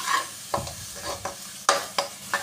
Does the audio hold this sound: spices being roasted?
yes